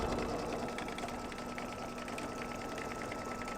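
A computerized embroidery machine stitches the next color of a fabric mug rug design, giving a continuous, fairly quiet mechanical whirr with a rapid, even stitching rhythm and a faint steady hum.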